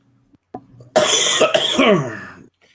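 One sharp cough followed by a harsher, longer cough with throat clearing, close and loud, during an online group conversation, with silence before and after.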